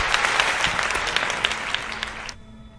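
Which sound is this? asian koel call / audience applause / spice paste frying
audience applause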